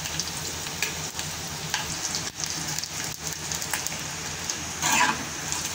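Whole spices and grated dry coconut roast in a little oil, giving a steady close crackling sizzle with a brief louder spattering burst near the end and no talk.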